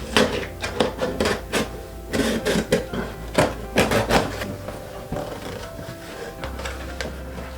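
A cardboard box for a Sony ZV-1 camera bundle being sliced open, a run of sharp rhythmic cuts and tearing scrapes close by, then a quieter pause near the end.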